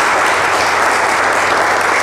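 A crowd at a community gathering with the county sheriff breaks into loud, dense applause, a continuous wash of clapping that stays steady and close for the whole short stretch.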